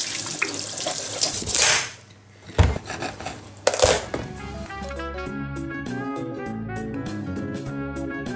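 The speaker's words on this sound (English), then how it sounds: "Let's wash it first." Tap water runs and splashes as a pumpkin is rinsed in a kitchen sink, with light knocks and clatter of the vegetable and dishes, then the stream continues steadily and close.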